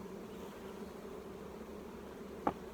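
A steady, low buzzing hum of honey bees in a hive fills the background, continuous and moderately close, with a brief sharp tap near the end.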